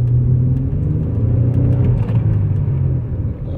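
A Nissan Altima 3.5 from the 2007–2012 range drives along with a steady, close engine rumble and road noise that holds even throughout, with no talking.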